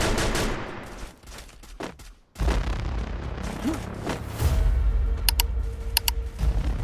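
Gunfire in the mobile battle royale game Free Fire Max, squad-versus-solo combat with a dense burst of shots, a brief pause, then renewed firing and booms alongside a few sharp electronic pings.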